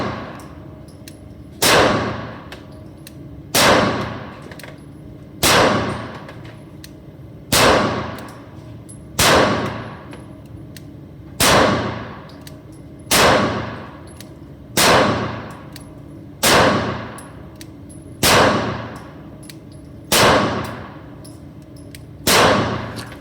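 A Sig Sauer SP2022 pistol fired shot by shot at a steel target seven yards away, about a dozen loud ringing clangs evenly spaced roughly two seconds apart, each decaying before the next, with no talking.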